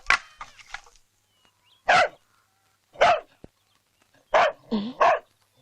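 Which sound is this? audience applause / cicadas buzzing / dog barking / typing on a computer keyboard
dog barking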